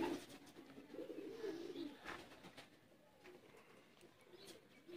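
Dab-type pigeons cooing in a series of low, throaty rolling coos, moderately close, with a quieter stretch of faint ambient noise after the first few calls and no talking.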